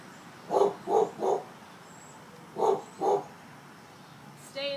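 A dog barks in two short bursts of two or three woofs each, moderately close in a quiet room, with a brief faint tone between.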